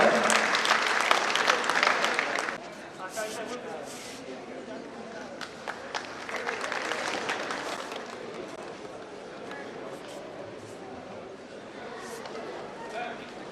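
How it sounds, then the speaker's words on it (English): An audience at a conference award ceremony applauds an awardee, loud at first and then settling into softer scattered clapping with some crowd chatter and footsteps. "Please give a round of applause for Mr."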